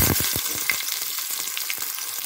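Onions sizzle and crackle in hot oil, a continuous frying hiss with small pops scattered throughout, close up and without speech.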